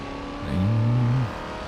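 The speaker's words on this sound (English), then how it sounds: "you can hear that charger, supercharger. You can hear the induction side whining as it pumps the air" In the BeamNG.drive game, a car's supercharger whines over the engine, a rising tonal note that swells briefly for under a second and then fades back into the steady engine hum.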